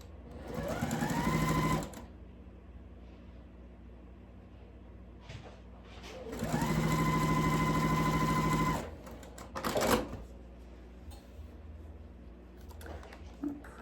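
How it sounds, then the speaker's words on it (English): Sewing machine stitching quilt fabric in a studio, two close bursts of fast rhythmic stitching that rise to a steady hum, separated by quieter pauses with faint handling clatter. "we're just doing real life sewing over here in the studio"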